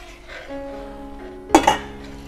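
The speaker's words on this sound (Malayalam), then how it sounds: "പെട്ടെന്ന് നന്നായിട്ട് ഇളക്കി കൊടുക്കണം, അതല്ലെങ്കിൽ പെട്ടെന്ന് അത് കട്ട കുത്തും കേട്ടോ" A spoon stirs jackfruit payasam (chakka pradhaman) in a pot, giving a low kitchen hum and a quick metallic clink and scrape against the pot near the end.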